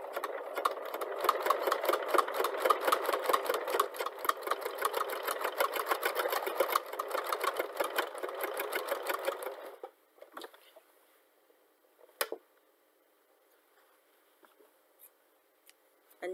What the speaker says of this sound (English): you take it to your machine and you stitch along that edge again